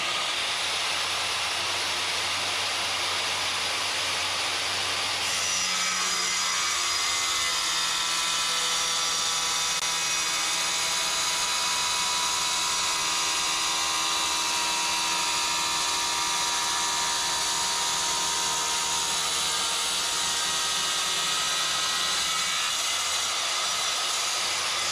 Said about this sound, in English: enjoy the shots of this cutting tile